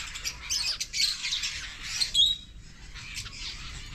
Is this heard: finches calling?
yes